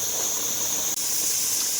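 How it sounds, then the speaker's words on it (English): Steady loud hiss of steam venting from a pressure canner during home canning of pork, continuous and close with a single momentary dropout partway through. "It is a little loud with the steam. The steamer has now been venting for 10 minutes."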